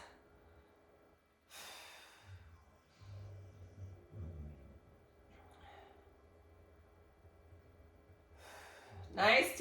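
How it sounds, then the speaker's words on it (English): Slow, deep breaths during a seated sciatica and low back stretching routine come as a few soft exhales and sighs between quiet pauses, with a sharper breath right at the end. "Nice deep breaths here."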